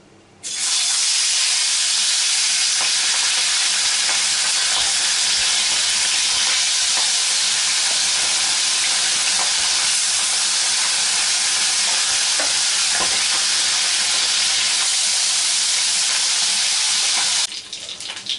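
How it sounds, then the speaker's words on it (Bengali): Pabda fish frying in hot mustard oil in a wok, a loud, steady sizzle and hiss that carries on unbroken for most of the stretch before easing off near the end. "মাছগুলো এক সাইডটা ভাজা হয়ে গেছে"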